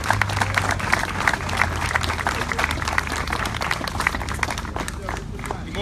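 An outdoor crowd at a park dedication in Ramsey Park breaks into sustained applause, dense and steady clapping with some cheering and voices mixed in, filling the whole stretch at a constant level.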